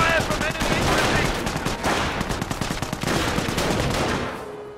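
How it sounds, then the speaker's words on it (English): Enemy infantry gunfire in Company of Heroes, a dense, sustained clatter of rifle and machine-gun shots at close range, with speech mixed in. "Taking fire from enemy infantry."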